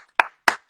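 Two sharp hand claps ring out close and loud, evenly spaced about a third of a second apart, forming a brief, sparse round of applause.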